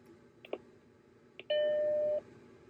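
Apple Macintosh SE startup chime: a clear, sustained electronic tone ringing for under a second, preceded by two faint clicks as the computer is switched on and plugged in, in a quiet room.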